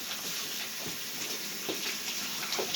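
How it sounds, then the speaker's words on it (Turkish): Tap water runs steadily while disinfected groceries are rinsed in a kitchen sink, a continuous close splashing flow with occasional soft knocks of items being handled. "Sonra bunları durulamadan geçireceğiz."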